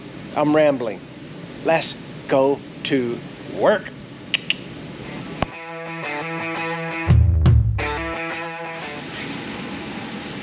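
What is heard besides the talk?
air conditioner running in a hot garage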